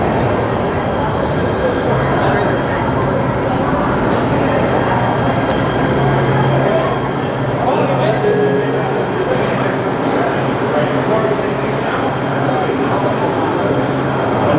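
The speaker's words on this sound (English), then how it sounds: "here comes another train" An LA Metro train on the new Regional Connector line pulls into an underground station, a steady low rumble and rolling rail noise filling the platform, with people talking nearby throughout.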